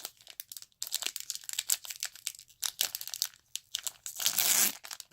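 A Star Trek CCG booster pack wrapper, from the Voyager and Borg sets, is crinkled and torn open by hand; bursts of close foil crackle and rustle come in irregular handfuls, ending in a longer louder rip.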